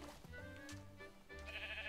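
A sheep in the video game Minecraft bleats in a couple of short, wavering cries over quiet game ambience. No one speaks during it.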